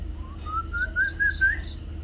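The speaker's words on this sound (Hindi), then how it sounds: "ये एक बर्ड है जो इस तरीके का साउंड निकालती है" A single clear whistling call from a bird in the Maharashtra hills glides upward in pitch over about a second, heard close over a steady low hum.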